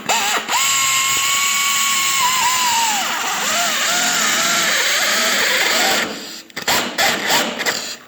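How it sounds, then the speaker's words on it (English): A DeWalt step (uni) bit bores into a pickup truck bed during a tailgate latch installation, a rising whine that holds, then wavers and bogs as it cuts deeper, followed by brief bursts and stops. "we'll take the DeWalt uni bit and we'll go all the way in as far as it'll go"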